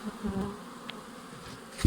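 Steady low buzzing of honey bees, with a brief louder buzz near the end as one passes close.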